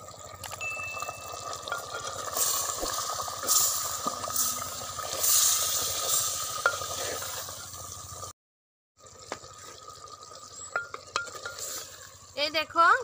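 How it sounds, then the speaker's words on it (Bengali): Chicken cooking in a clay pot is stirred. A steady sizzle carries scraping stir strokes over about eight seconds, then a brief silence, then quieter sizzling and stirring with a few sharp clinks near the end. "আবার একটু নেড়ে দিই।"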